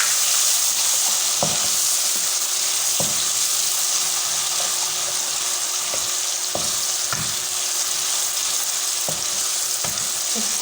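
Tomatoes with red chilies and a pinch of salt fry in a pan for dhaba-style sarson ka saag, giving a continuous hissing sizzle punctuated by regular sharp spatula taps, with no talking.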